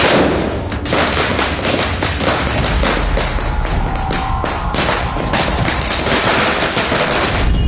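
Diwali firecrackers go off in rapid, irregular bursts of sharp cracks and pops, loud and close, layered over a constant crackling roar.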